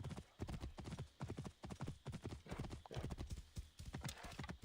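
A horse's hooves clip-clop in fast rhythmic beats in Assassin's Creed Origins, a brief whinny among them, close and steady throughout with no talk.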